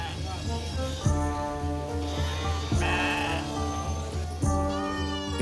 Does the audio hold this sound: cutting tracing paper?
no